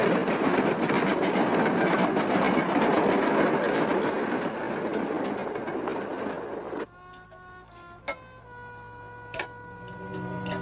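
A train rumbles past loudly and continuously before fading, leaving a hum with a few sharp clicks and ringing tones at the end, all without voices.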